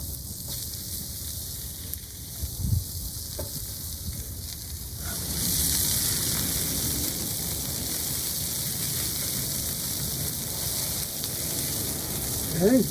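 Safflower oil sizzles in a pan on a Big Papa drum smoker at 275 degrees, set up for smoked queso; a quiet stretch gives way to a steady, loud frying hiss that holds to the end.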